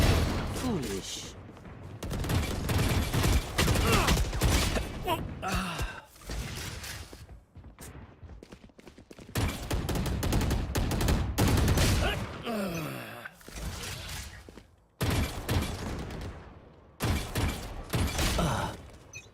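Gunfire in a video game, arriving in repeated loud bursts of rapid shots separated by short gaps over many seconds, with other game noise in between.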